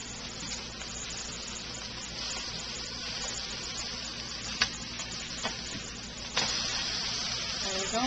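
Salmon patties fry in a pan with a steady close sizzle and crackle, broken by a few brief clicks and a louder burst of spitting toward the end as they cook.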